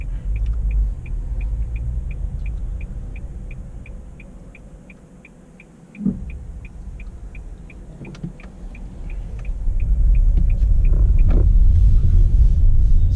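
A 2018 Nissan Leaf 40kW electric car drives on the road with a steady low rumble of road and tyre noise. A faint regular ticking repeats throughout, there is a brief thump midway, and the rumble swells louder toward the end.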